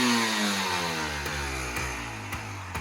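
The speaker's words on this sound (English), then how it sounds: "Let's rev it up." The two-stroke engine of a 1985 Honda ATC250R three-wheeler revs high and loud close by, then its pitch slowly falls with a few sharp pops as it winds down.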